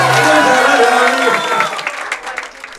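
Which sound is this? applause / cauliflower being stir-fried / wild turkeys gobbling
applause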